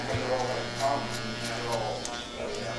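Electric hair clipper hums steadily at close range while cutting a classic short haircut, a continuous buzz with light snipping textures and no talking over it.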